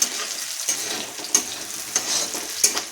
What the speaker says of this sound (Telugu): ఇప్పుడేమో కాజు కొంచెం వేపుకుందామా.